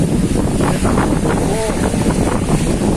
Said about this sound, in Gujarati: પવન પવન પવન ના તમને અવાજ તો આવતો જ છે